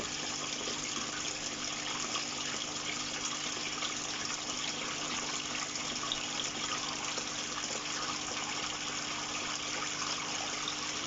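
A homemade sump pump shoots water out while the pit keeps filling, giving a constant, close rush of gushing water at steady loudness throughout, with no talk.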